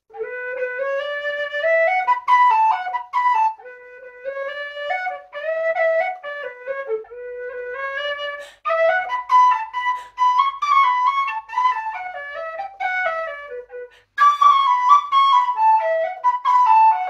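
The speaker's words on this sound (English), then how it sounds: "can make a huge difference to the sound of your whistle" A tin whistle plays a lively melody of quick notes with a ringing, roomy echo, continuing for over fifteen seconds with brief pauses between phrases.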